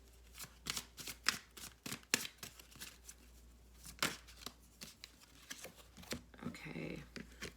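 Tarot and oracle cards being shuffled by hand, a run of quick papery riffles and taps in an irregular rhythm, close and fairly soft.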